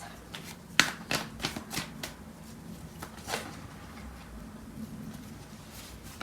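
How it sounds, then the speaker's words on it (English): Tarot cards shuffled by hand and drawn from the deck during a love reading, a close run of soft papery riffles and flicks with a few crisp snaps, quiet and unaccompanied by speech. "I'm going to pull out more cards."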